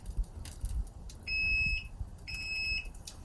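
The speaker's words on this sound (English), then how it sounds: "Now this thing is beeping now." Two shrill electronic beeps from a device beside a drum smoker sound in succession, the first steady and the second slightly broken, over a quiet background with faint low clatter.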